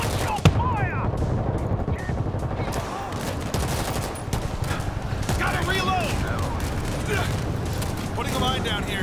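Rapid gunfire against zombie hordes in the World War Z video game, Jerusalem episode, dense bursts of automatic fire and booms filling the scene with voices shouting over the din.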